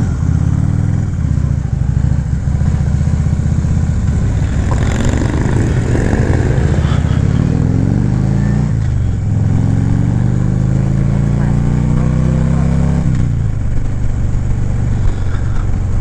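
A motorcycle on a group ride, heard up close as a loud continuous engine drone that revs up and eases off several times through gear changes, with wind noise and no talking.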